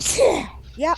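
A single sharp, close sneeze bursts out near the start, followed a moment later by a brief spoken word.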